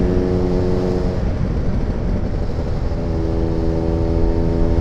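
A Vespa smallframe rat-bike scooter engine buzzes loud and close on a test ride, a steady harmonic drone with a brief dip in revs partway through, and nobody talks.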